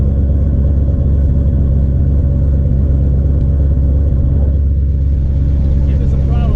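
A race car engine idling and rumbling at the track, a loud continuous low throb close by, steady throughout with no clear revving surge, and a voice speaking over it.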